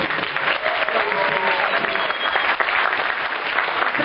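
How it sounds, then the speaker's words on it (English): A cinema audience gives a round of applause at a horror film festival screening, a dense, steady wash of many hands clapping at once, loud and continuous throughout with a faint murmur of voices underneath. "so can we have a round of applause for them?"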